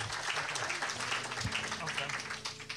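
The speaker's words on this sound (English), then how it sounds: "Round of applause for Deb," Audience applause at a live comedy show, a steady wash of clapping throughout, with voices talking over it.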